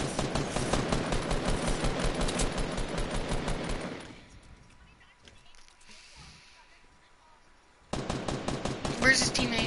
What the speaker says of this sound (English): Oh, I think I'm getting shot at.